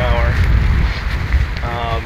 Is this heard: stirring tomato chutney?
no